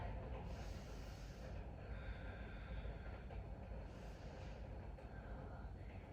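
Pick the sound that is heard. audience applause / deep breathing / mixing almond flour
deep breathing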